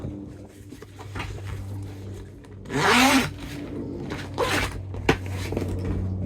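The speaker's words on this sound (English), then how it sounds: "To further undo the zipper." A zipper on a boat's canvas cover is pulled open in a few rasping strokes, one long loud pull in the middle followed by shorter tugs, with rustling of fabric and faint knocks between them.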